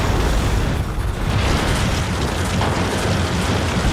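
Dense, continuous rumbling blasts and booms of battlefield explosions from a World War I documentary, loud and unbroken for a few seconds with no clear gaps between bursts.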